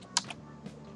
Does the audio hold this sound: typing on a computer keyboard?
yes